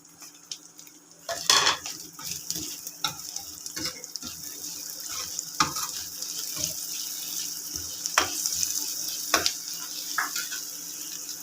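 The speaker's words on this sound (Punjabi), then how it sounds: "ਇਹਨਾਂ ਨੂੰ ਵੀ ਵਿੱਚ ਆਪਾਂ ਥੋੜਾ ਜਿਹਾ ਭੁੰਨ ਲਾਂਗੇ" Chopped fenugreek leaves are stir-fried in a pan for a moong and chickpea dal, with a spatula clinking and scraping against the metal over a steady low sizzle.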